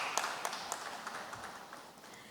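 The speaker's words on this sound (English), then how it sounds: "Please welcome with me with a warm round of applause, Mr. Daffy Akpeneye." Faint, distant applause from a conference audience greets a panel speaker, with a soft wash of clapping that thins out and fades over a couple of seconds.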